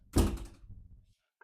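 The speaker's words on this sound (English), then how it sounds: "Close the door, bruh." A door shuts in a home kitchen with a single close, dull thunk, followed by a brief rattle that fades quickly into quiet.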